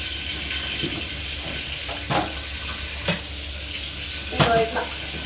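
Dried red chillies fry in hot oil for a South Indian tempering, a low steady sizzle broken by several sharp stirring clinks and pops, close by.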